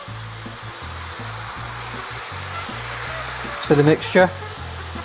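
Beef stock pours into a pan of sizzling enchilada beef mixture, giving a steady frying hiss with a brief louder splash and bubbling burst near the end, while a voice speaks faintly over it.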